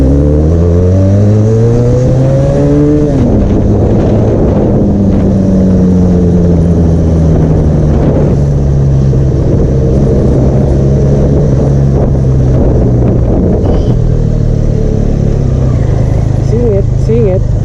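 Benelli Leoncino 500 motorcycle engine accelerating during a ride, a loud close engine note climbing in pitch through gears with wind rush, while people talk over it.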